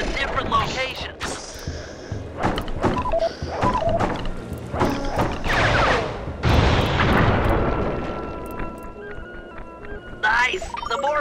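Fireworks bursting in the Sly 3: Honor Among Thieves video game, a string of loud booming blasts and crackles with dense game effects and occasional voice-like sounds layered throughout.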